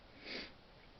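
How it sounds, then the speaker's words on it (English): A single short, soft sniffle from a nearby person, a quick breathy intake through the nose in an otherwise quiet room. "I'm sorry I'm sniffling"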